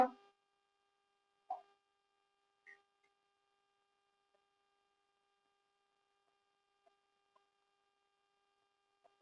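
A phone call tone plays quietly as a few short, evenly spaced beeps over a faint hum, then fades into near silence.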